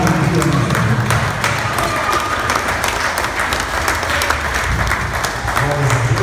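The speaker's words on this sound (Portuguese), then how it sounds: "Então vamos todos aplaudir o Senhor bem forte." A Portuguese-speaking church congregation applauds during an opening prayer at a service, with loud continuous clapping mixed with cheers and voices throughout.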